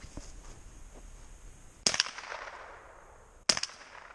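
Two sharp gunshots fired at milk jugs at an outdoor shooting range crack out about a second and a half apart, each loud and abrupt with a brief ringing tail over quiet background.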